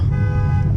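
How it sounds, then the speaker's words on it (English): A car alarm going off nearby, a loud sustained electronic tone with a strong harmonic buzz, heard alone for under a second. "They set off a car alarm already"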